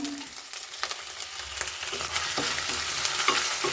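Garlic and ginger paste sizzle in a hot pan while a spoon stirs and scrapes through it, the short scrapes and taps coming every half second or so over a steady hiss that slowly grows louder, without any voices.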